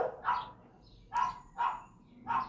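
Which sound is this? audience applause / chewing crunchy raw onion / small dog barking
small dog barking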